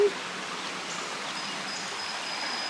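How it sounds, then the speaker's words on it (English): Creek flowing beside a mountain chalet near Grandfather Mountain, a steady soft hiss of running water, continuous and moderately distant, with no voices. "I fell asleep to the sounds of the creek"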